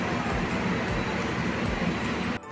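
A train arrives at a railway station on the Jakarta–Surabaya route, a dense, loud rumble of rolling wagons filling the scene until it cuts off abruptly near the end.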